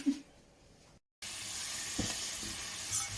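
Potato pieces frying in a pan for a cauliflower curry, a bright hissing sizzle after a brief silent gap, with a couple of soft knocks, close by and without speech.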